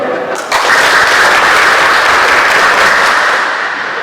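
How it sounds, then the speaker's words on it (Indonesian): Audience applause at the opening ceremony of an administrator leadership training, a dense, loud burst of clapping that starts abruptly and holds steady for several seconds before easing slightly at the end. "Saya senang karena aplausnya bagus."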